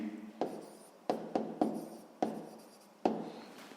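Pen writing an answer by hand on paper in a sixth-grade maths exercise: a run of short scratchy strokes, each a sharp onset fading out, repeated about seven times at an uneven pace, close and quiet.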